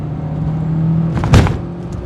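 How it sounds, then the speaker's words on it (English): A 2004 Renault Megane RenaultSport 225 drives along with a steady engine drone, then a brief sharp surge and thump near the end as the engine revs hard over a bump, heard from inside the car. "just the moment when it revs really hard and everything goes light on the drive axle"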